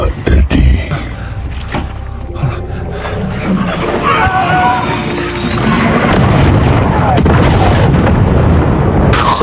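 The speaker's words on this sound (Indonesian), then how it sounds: "Setelah ledakan terjadi" Heavy explosions from the film Venom: The Last Dance: a few loud booms burst at the start, then a dense roaring rumble with debris and effects builds and holds to the end, with some voice mixed in.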